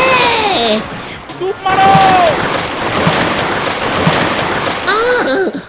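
A loud, sustained splashing and churning of water erupts as someone falls from a boat on a river in a cartoon, with shouting, yelping voices over the turbulence at the start and end.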